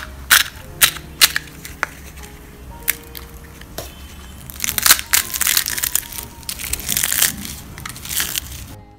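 Crisp kachori shells are broken by hand, giving a series of sharp, loud crunches and cracks close by, scattered at first and then coming in quick bursts, with no talking.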